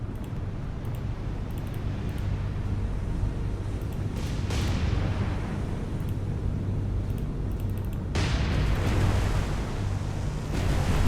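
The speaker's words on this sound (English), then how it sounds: "it looks like a magazine explosion" A cruiser's magazine blows up in the naval combat game War on the Sea: a dense, steady roar of rumbling blast noise, with sharper bursts flaring up about midway and again near the end.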